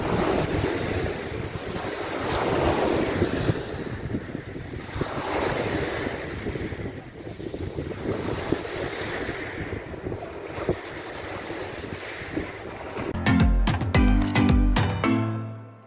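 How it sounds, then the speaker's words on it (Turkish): Sea waves surge and wash continuously onto Konyaaltı beach in Antalya, a loud, steady roar with heavy wind buffeting the microphone, ending in a burst of sharp handling knocks. "Sahile gelinir de dalga sesi dinlenmez mi?"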